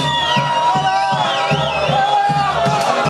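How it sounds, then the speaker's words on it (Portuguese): After a Corinthians goal in a world club final, the crowd roars, with a dense wash of cheering and chanting that stays loud and continuous. A rhythmic drum beat pulses underneath throughout. "Gol do Corinthians, a torcida explode em festa, muito barulho"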